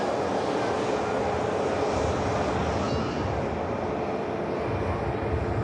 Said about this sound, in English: the Aer Lingus 321 Neo. Return to Dublin. Is about to rotate.